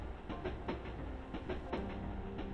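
A train moves through a snowy night, wheels clacking in a steady rhythmic pattern over a constant low rumble, with a faint tonal hum riding on top, near and even.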